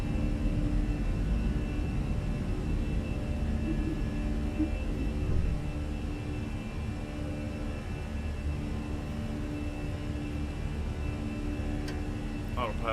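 An Airbus A320 jet climbs after takeoff in a flight simulator, a steady low engine rumble and whir filling the cabin, with a few faint clicks near the end.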